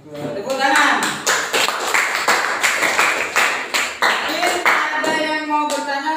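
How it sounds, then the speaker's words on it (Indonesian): A classroom of students claps steadily for several seconds, a dense patter of many hands with a few brighter sharp claps and some voices mixed in. "Tepuk tangan."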